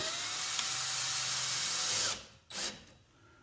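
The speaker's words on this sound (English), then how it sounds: "And then we're just going to screw this in, just one screw." A power drill drives a single screw into an Adirondack chair slat, a steady whirring run for about two seconds that cuts off, then a short second burst and a sharp click at the end.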